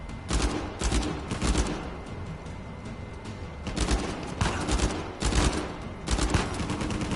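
Bursts of rapid automatic gunfire in the video game Uncharted 4: A Thief's End, several volleys separated by brief pauses, loud and close over a steady background rumble.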